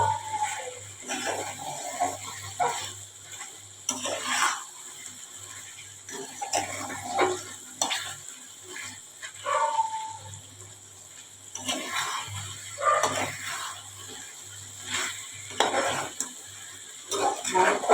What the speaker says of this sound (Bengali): কষতে হবে বন্ধুরা, তলায় লেগে যাচ্ছে, বারবার নাড়াতে হবে।